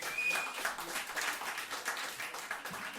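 Crowd applause at an Orange Show for a two-piece band, a steady patter of many hands clapping throughout.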